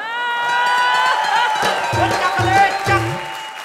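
Studio audience noise on a comedy show swells into a burst of clapping and cheering over a lingering tone, with a voice calling out near the end.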